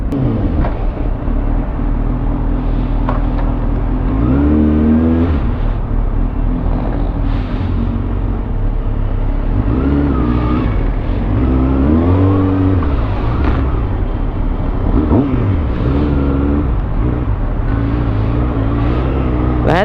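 A Kawasaki leisure bike's engine idles with a loud close rumble and revs up repeatedly in rising and falling surges, the throttle blips standing out over a steady low drone.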